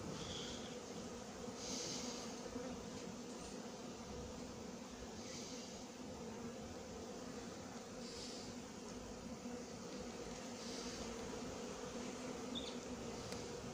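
Bees swarm around a natural beehive, making a steady, continuous buzzing drone that holds evenly throughout with no voices.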